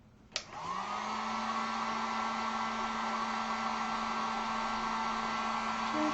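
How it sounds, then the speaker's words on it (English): A heat gun switches on with a click to dry acrylic paint, spins up within a fraction of a second, then holds a loud, steady whirring rush of hot air with a constant motor hum throughout. "let me throw the heat gun on"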